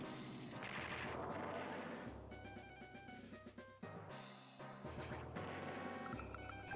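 A tank comes under attack in Advance Wars 2, with chiptune-style cannon and gunfire bursts, booms and electronic beeping tones cutting through busy game music, fairly loud throughout.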